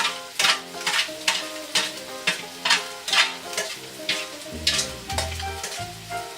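Noodles for soy sauce chow mein are stir-fried in a hot pan, loud sizzling swells with rhythmic scraping strokes of a spatula roughly every half second, close and without speech.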